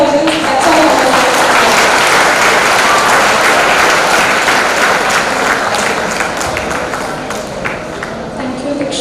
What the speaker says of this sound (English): So I think one big round of applause for Diksha.